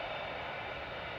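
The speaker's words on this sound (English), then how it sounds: "This is A6EOQ, a 9-year-old A380." An Emirates Airbus A380, registration A6EOQ and nine years old, departing Manchester Airport for Dubai: a broad, steady jet roar, loud and continuous with no voices over it.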